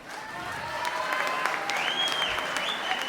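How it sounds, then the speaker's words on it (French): Applause for Whirlpool factory workers at a French political rally, steady and full throughout, with a held tone and a few cheers rising over the clapping. "Vous pouvez les applaudir."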